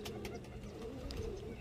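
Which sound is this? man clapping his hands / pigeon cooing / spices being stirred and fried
pigeon cooing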